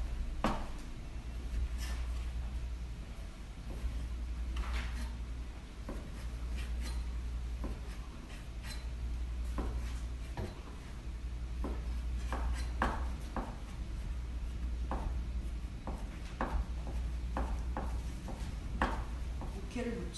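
Raw beef being sliced into thin strips with a knife for Korean yukhoe: repeated soft, irregular taps and clicks of the blade on a cutting board over a steady low hum, with a voice speaking now and then.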